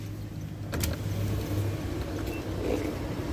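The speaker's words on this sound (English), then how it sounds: "I'll start the engine first." A 2023 Perodua Alza 1.5L starts up with a brief crank, then settles into a steady low engine hum that holds close and even throughout.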